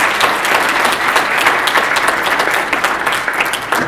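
A seated audience at a women-in-motorsports talk breaks into steady, full applause, dense clapping sustained at high level throughout with no voices over it.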